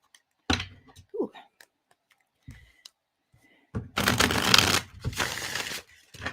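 Tarot cards being shuffled during a live reading, with a few scattered taps and then a dense burst of riffling, flapping card sounds, close and fairly loud, amid brief pauses.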